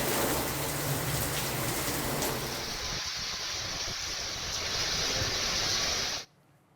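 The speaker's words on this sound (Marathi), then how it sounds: "वाशिममध्ये वादळी वाऱ्यासह मुसळधार पाऊस झालाय।" Heavy unseasonal downpour with storm winds in Washim, a dense steady rain hiss that stays loud throughout and cuts off abruptly near the end, with no voices.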